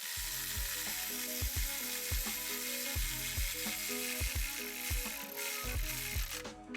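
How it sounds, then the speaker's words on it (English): A ratchet wrench loosening the 10 mm nut on a Vortech Ti Race Trim supercharger pulley, clicking in a quick, regular series of strokes close to the mic. "loosen it up like that so that the nut's free"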